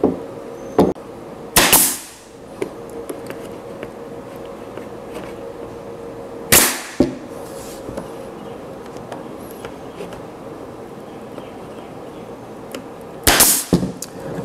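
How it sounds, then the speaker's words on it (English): Nail gun firing brads or staples into plywood on a wheeled blackboard with an oak frame, three sharp pneumatic bangs spaced several seconds apart over a quiet workshop background, close and loud. "I'm gonna shoot this bottom thing in with a few brads or staples."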